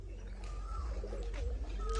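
Pigeons coo continuously in a low, throaty warble at close range, with faint chirps from other birds around them.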